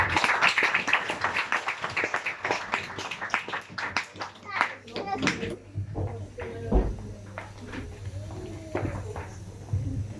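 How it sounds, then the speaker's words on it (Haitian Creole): A church congregation clapping together in a lively rhythm, with voices talking and someone speaking over the applause, which grows sparser and quieter toward the end. "Nous applaudissons l'Esprit de Dieu."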